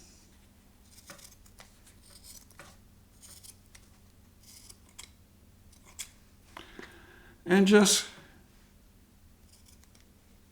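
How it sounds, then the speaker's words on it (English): Scissors snip through a sock while making a sock puppet, one short, close burst of cutting after quiet handling sounds and a few brief spoken words. "Now just come back with your scissors if I can."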